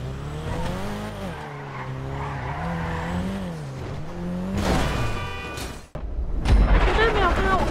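Elegy Retro Custom race car in GTA V revving with rising and falling engine tones, then a brief cut and harsh tire squeal or skid near the end; a voice talks over the engine throughout.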